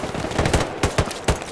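A machine gun fires in the World War II shooter game Hell Let Loose, a rapid burst of sharp, loud shots at a quick irregular rhythm.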